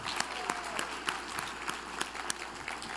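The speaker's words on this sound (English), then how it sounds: "let's give them a big round of applause for this showing of support." Audience applause at a charity gathering after a matching gift is announced, brisk clapping with distinct sharp individual claps over a busy crowd bed, continuous and fairly close.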